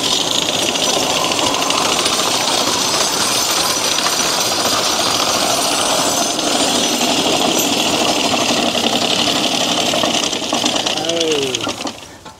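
A hay mower clatters loudly and steadily at close range while cutting tall hay, a rapid mechanical chatter that winds down and fades near the end.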